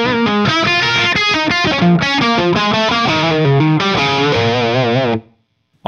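A distorted electric guitar from an amp-less rig plays sustained chords and riffs with a simulated roomy, lingering ambience, then cuts abruptly to silence near the end.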